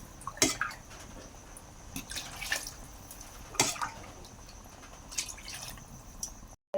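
Quiet irregular splashes and trickling of water being poured into a pot of rice, with soft drips and clinks, close by and faint, without speech.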